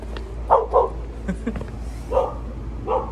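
Dogs bark a few times, two quick barks then a pause and two more, fairly close, over a low steady background hum.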